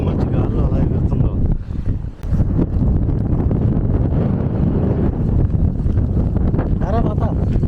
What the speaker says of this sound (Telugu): గాలి అయితే ఘోరంగా ఉంది.